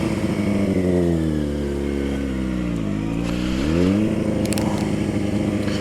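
A motorcycle engine revs steadily at high idle, its pitch sagging and then climbing back up, loud and close with no talk over it.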